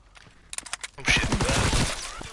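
Mounted turret machine gun in a WWII shooter game: a few separate shots first, then about a second in a loud sustained burst of rapid automatic fire with dense rattling.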